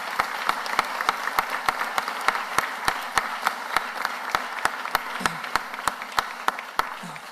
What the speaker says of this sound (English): Give Renee Garcia a round of applause.